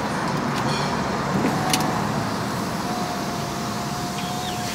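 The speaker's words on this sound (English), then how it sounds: "I'm driving my honey's car" Interior road noise of a car being driven, a steady broadband rumble and hum that stays loud and even throughout with no talking.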